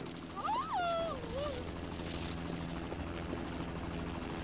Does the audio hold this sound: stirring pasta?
no